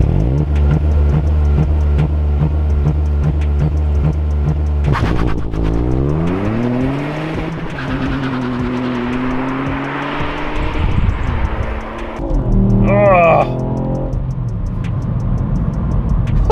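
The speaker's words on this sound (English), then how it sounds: "Wheel spin in second again." A 2023 Ford Fiesta ST holds a steady rev-limited idle near 3,000 rpm, then launches hard with wheel spin; the engine note climbs loudly through the gears with a shift and another rising pull, close and continuous with no talk.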